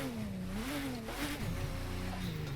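A nearly maxed-out Porsche in the racing game The Crew 2 revs its engine in a continuous, rising and falling drone. The sound is steady and moderately loud over faint game noise.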